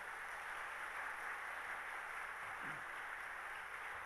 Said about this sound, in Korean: 나오실 때 사랑합니다 라는 마음을 담아서 박수로 환영하면 좋겠습니다